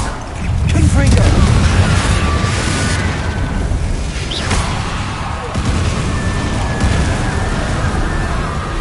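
A Confringo spell explosion in the Hogwarts Legacy video game, a loud, heavy boom with rumbling blasts and crackling debris, followed by lingering roar and smaller bursts.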